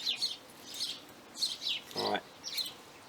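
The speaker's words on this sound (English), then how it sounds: "The birds are getting excited too." Several small birds chirp in short, bright bursts outdoors, close and fairly loud, with a brief low voiced sound in the middle, during bicycle drivetrain work.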